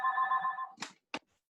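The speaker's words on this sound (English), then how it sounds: "the phone just rang. I got distracted for a second." A phone rings once with a steady electronic tone, followed by two brief clunks or clicks, faint and close in an otherwise quiet room.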